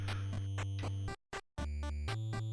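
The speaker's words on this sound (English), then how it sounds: "It has catchy chiptune music." Catchy chiptune overworld music from the video game Perils of Baking plays in short bright square-wave phrases with a steady bass tone, breaking into a brief gap before resuming.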